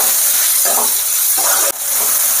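Chopped onions hit hot oil already holding minced garlic and pepper for an egg chicken chowmein, giving a steady loud sizzle throughout with a few stirring scrapes and a short sharp knock near the end.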